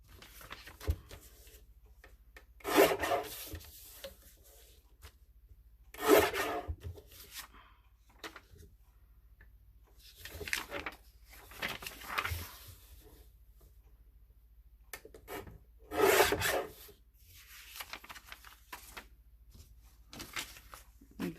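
Scissors trim the bottoms off a nature-themed paper craft piece in short, quiet snips and rustles separated by pauses, close by and faint.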